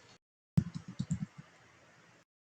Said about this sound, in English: Let me see if I'm typing. I'm trying to reply.